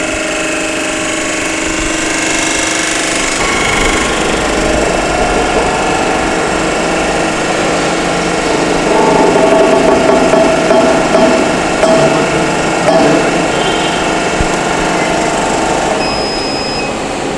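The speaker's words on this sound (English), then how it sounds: "Give a start command of your hydraulic jack and run the setup." The hydraulic jack of a compression testing machine for cement mortar runs with a loud, steady mechanical whine and hum, with faint ticking and a shift in tone partway through, continuous and close throughout.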